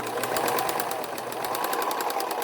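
A Juki serger runs continuously at close range, a steady fast mechanical whir with a rapid rhythmic ticking from the stitching, fairly loud and without any voices.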